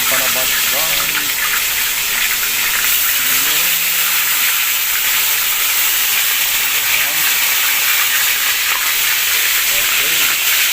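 Food frying over a strong, high fire, a loud continuous sizzle and hiss of hot oil filling the whole stretch, with a voice talking faintly under it.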